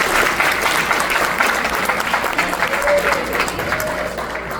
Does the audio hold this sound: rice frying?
no